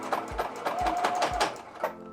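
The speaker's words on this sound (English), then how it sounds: "I'm going to actually sew over this area a few times as well" A sewing machine stitches back and forth over a thick zipper loop on a small pouch. Close, steady rhythmic thumps of the needle come with a faint motor hum, in short repeated passes.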